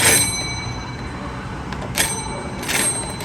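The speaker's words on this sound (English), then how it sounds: "here's a doorbell" A bright bell chime from an antique doorbell rings out and lingers, followed by a couple of lighter metallic dings over a low background hum.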